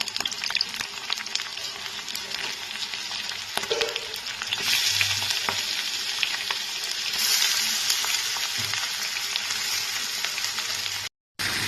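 Grated giant taro fries with garlic and green chili in hot oil. A steady close sizzle carries stirring scrapes and bursts of louder crackle as the mixture is turned, and it cuts out briefly near the end.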